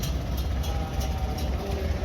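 A 1938 Farmall F20 vintage tractor idles in a low, steady rumble at a faint, distant level, its even engine drone carrying on without change for the short moment.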